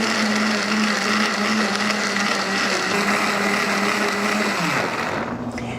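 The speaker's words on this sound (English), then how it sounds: "Let's just go right in the blender and get this going." A blender runs loud and steady, blending gazpacho ingredients with olive oil, its constant whirring drone winding down near the end.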